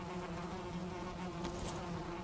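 Bees buzz steadily in a continuous, droning hum from several insects at close range, faint and even in level throughout, with no voices present.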